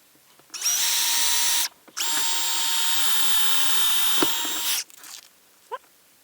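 A handheld power drill bores 3/16 inch mounting holes for illuminated LED address numbers, two loud close bursts of high whining motor, one short and one longer, separated by a brief pause, with light clicks afterward.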